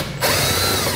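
A power drill with a bit removes fasteners while a base plate kit goes onto a 2021 Chevrolet. It starts abruptly after a short pause and whirs loudly and steadily up close, with no talk.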